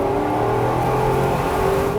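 Off-road 4x4 Bowler Bulldog engine revving hard on a track, a loud continuous roar with a droning rising tone close by, with no talking.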